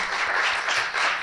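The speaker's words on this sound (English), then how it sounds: "let's give them a round of applause" Audience applause at a community conference honoring a hospital coalition, a brief dense burst of many hands clapping, full and steady with no talk over it.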